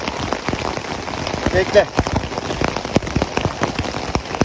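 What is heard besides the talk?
rain falling on tent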